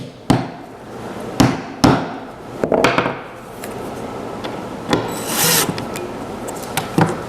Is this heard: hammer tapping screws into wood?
yes